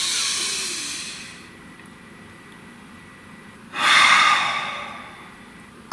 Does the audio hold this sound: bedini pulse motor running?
no